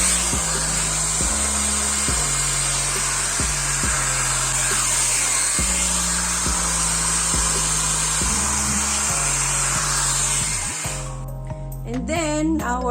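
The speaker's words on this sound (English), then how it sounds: "So now, we will start to do the blow dry." A hair dryer blows across wet acrylic pour paint on a canvas, its steady loud whirring roar running continuously with shifting motor pitch before cutting off near the end, leaving brief clatter.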